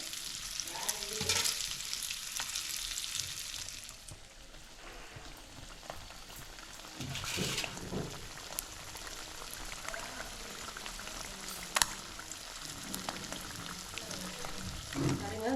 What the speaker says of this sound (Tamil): முட்டை எண்ணெயில் சேர்த்ததுக்கப்புறம் வந்து பார்த்திங்கன்னா தெரிக்கும்